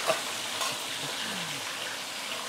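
Silago whiting fish deep frying in hot oil, a steady hiss of bubbling oil that stays fairly even with a couple of faint pops.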